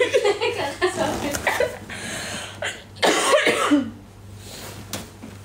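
Dry coughing and throat sounds from a person in a windy outdoor setting, brief bursts mixed with chuckling, with people talking around them.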